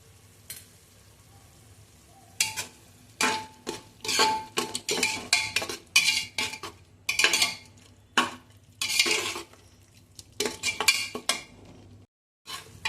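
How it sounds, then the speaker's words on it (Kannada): A spoon scrapes and clinks against a pan while chilli and turmeric powder are stirred in oil for tomato rice, in irregular bursts of stirring over a soft sizzle, with no talk. "ಸ್ವಲ್ಪ ಇದೆಲ್ಲ ಹಸಿ ವಾಸನೆ ಹೋಗೋವರೆಗೂ ಸ್ವಲ್ಪ ಇದೇ ಥರ ಕೆಳಸ್ಕೋಬೇಕ್ರಿ."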